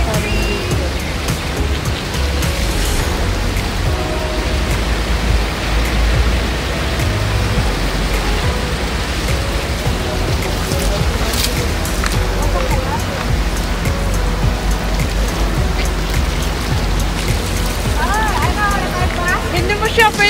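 Flood water and rain in Al Barsha, Dubai make a continuous broad rushing wash, steady and loud throughout, with faint voices in the background.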